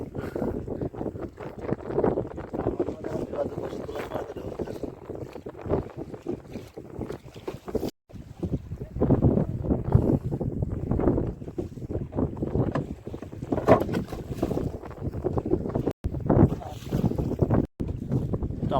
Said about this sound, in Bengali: প্রচণ্ড হাওয়া আর তেমনই ঢেউ আছে।